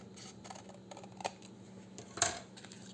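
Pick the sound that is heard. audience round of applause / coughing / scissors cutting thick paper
scissors cutting thick paper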